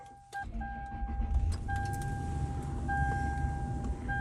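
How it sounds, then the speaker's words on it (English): A Lexus LX470 engine turns over and catches, then settles into a low steady idle, with keys jingling and electronic chimes beeping in the cabin. "Let me turn on the car to check all the features."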